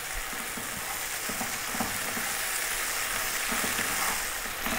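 Chopped onions frying in a pan for an Indian mutton curry, giving a steady, close sizzle with occasional soft stirring scrapes and no talk.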